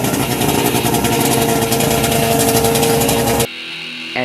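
A Suzuki ST20 Carry engine runs loud and close, a steady rattling buzz that cuts off abruptly near the end, leaving a faint quieter hum.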